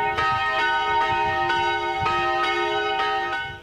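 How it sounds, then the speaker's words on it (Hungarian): Newly consecrated Greek Catholic church bells in Szolnok ring at noon, a loud, steady peal of regular overlapping strikes with long sustained ringing tones, heard alone. "a szentelést követően végső helyére kerültek a harangok, és pontban délben megszólalhattak"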